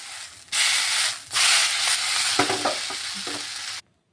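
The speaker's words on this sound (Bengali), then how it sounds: "এই যে একটু উল্টিয়ে পাল্টে নামিয়ে দিচ্ছি, তাহলে পুরো পিঠটাই ওই পিঠটাও খুব সুন্দর ভাজা হবে।" Pumpkin peel fritters hiss and crackle in a frying pan as they are flipped and lifted out, with scraping spatula strokes over a loud sizzle that cuts off abruptly near the end.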